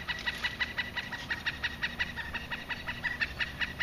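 Chicken clucking heard in a steady run of short, rhythmic calls over a low background hum, fairly faint and without talk.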